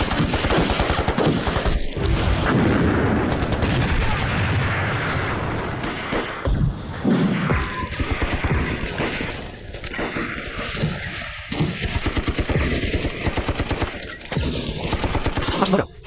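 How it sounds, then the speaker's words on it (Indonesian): Machine gun suppressive fire in a film battle scene, dense sustained bursts of gunfire with booms, loud and continuous with voices faintly under it. "Penembak senapan mesin. Tembakan penekan, beri mereka pukulan yang baik."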